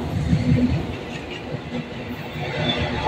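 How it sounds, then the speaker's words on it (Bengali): A freight train approaches on a station's line 3, producing a steady rumble with rhythmic wheel clatter, fairly loud and continuous, with no voices. "এখন 3 নম্বর লাইন দিয়ে ছুটে আসছে মালগাড়ি।"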